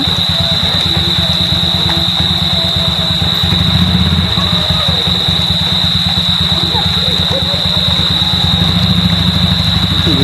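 A motorcycle engine runs close and loud in a steady, throbbing idle with a slight rise partway through, holding a constant drone for the whole stretch.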